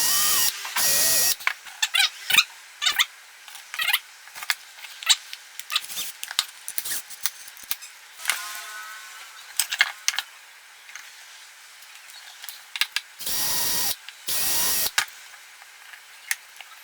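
Drilling holes in a tape organizer, several short bursts of a power drill whirring close up, separated by pauses and small handling clicks.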